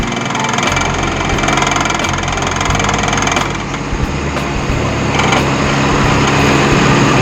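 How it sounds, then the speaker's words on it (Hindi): A car engine with a freshly tuned carburetor runs at a steady, even idle close by, a continuous loud hum with no speech. "यूरो इंजन वाली चल रही है"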